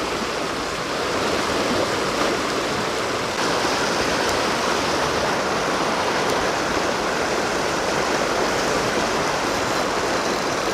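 Fast-flowing urban river water where a fishing spot sits beside the main flow: a steady, broadband rushing roar, close and continuous with no talk.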